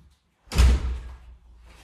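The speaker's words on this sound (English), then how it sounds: "I'm just filming, Fabrizio, so I'll shut the door" A door swings shut with one solid thud at close range, its low boom fading into a short rumble before quiet room tone returns.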